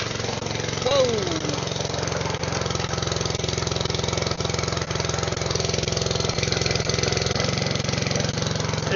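A small gasoline engine, just repaired after its carburetor leaked fuel, catches and then runs at a steady, loud idle with an even rhythmic chug throughout.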